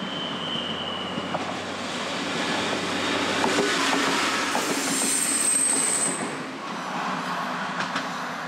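A model train rumbles steadily along the track of a model railway layout, with rolling wheel noise and a high squeal of wheels partway through, continuous and fairly close.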